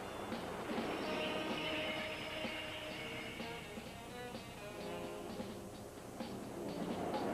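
A train pulls into a station in an old-time radio drama scene, a steady rumbling roll with clacking wheels and a whistle-like tone rising and fading, moderately quiet with no voices.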